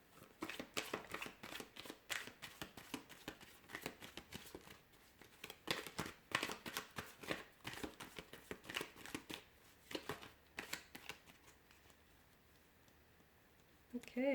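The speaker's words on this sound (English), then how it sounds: "let's give the cards a shuffle and get into it" Tarot cards being shuffled up close in a dense run of rapid riffling and flicking bursts for most of the stretch, then easing off to quieter handling near the end.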